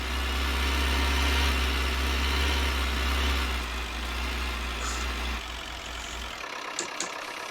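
A Ford 5000 tractor engine runs steadily during hay making, a loud low rumbling drone that fades and drops away toward the end, leaving faint clicks.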